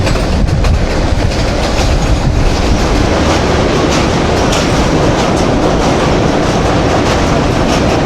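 Train rolling over Victoria Bridge across the Jhelum River, heard as a loud, continuous rumble with steady clickety-clack of wheels on rail joints, close and without pause throughout.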